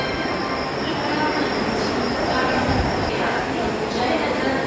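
A train pulls into a station platform with a steady, loud rumble of wheels on rails and a faint squeal, while voices murmur in the background throughout.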